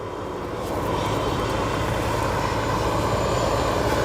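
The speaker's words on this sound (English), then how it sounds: "Etihad flight that will be heading off to Abu Dhabi, just about to push back from Terminal 5" Etihad airliner at O'Hare airport's Terminal 5, heard as a loud, steady jet engine roar with a broad rumble, continuous throughout and without talk.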